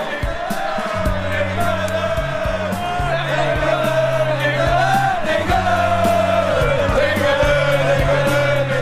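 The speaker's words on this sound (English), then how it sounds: "But we can hear a crowd somewhere singing England" A distant crowd of English Defence League demonstrators chants "England" in a rhythmic, sustained sing-song, heard outdoors as a steady mass of voices with repeated drawn-out notes.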